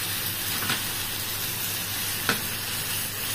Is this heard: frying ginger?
yes